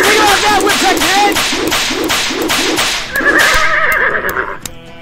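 A video game horse whinnies loudly several times in a rapid, rhythmic series, each call rising and falling. A whip cracks near the end.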